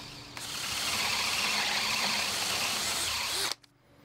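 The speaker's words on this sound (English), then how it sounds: "We drill down with the force snare." A power drill turns a Forstner bit down into wood, boring a bolt pocket in an outboard wooden sailboat rudder: a steady, loud whirring grind for about three seconds that stops abruptly near the end.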